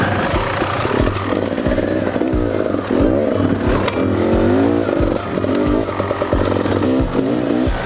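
A Beta Xtrainer dirt bike engine buzzes loudly and continuously while riding, its revs rising and falling with repeated throttle blips and ragged, chainsaw-like rasping, close and constant throughout with no talk.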